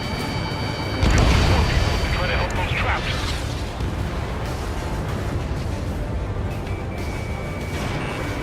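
Bombs dropped from a fighter jet in Ace Combat 7 hit a pipeline target with a heavy booming blast after a second, followed by a long rumbling roar of engine noise as a voice talks over it.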